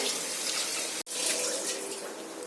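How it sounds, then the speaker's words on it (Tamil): Water poured into rice in a pot while making tomato rice, a steady close splashing stream with one brief break partway through. "அரிசிக்கு தேவையான அளவு தண்ணி ஊற்றிக்கலாம்"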